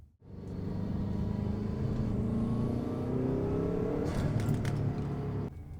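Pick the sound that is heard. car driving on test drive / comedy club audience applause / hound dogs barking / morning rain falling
car driving on test drive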